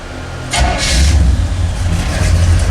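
A car engine cranks and catches, then runs with a steady low rumble and rising revs as the vehicle moves off, continuous and fairly close, with no talk over it.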